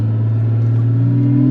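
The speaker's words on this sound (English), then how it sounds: "we'll go ahead and give it some gas around these turns" A Porsche 997.1 Carrera S with Tiptronic automatic gearbox accelerates, its engine a loud, close, steady drone that rises slightly in pitch through the clip.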